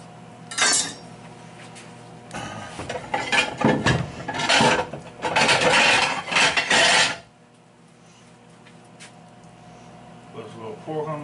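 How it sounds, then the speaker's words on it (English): Herb-roasted pork loin is cut into thin slices with a knife, giving repeated close scraping and crunching bursts of knife against a board before the clip settles into quiet near the end. "So now we're gonna slice the pork up. Nice little thin slices."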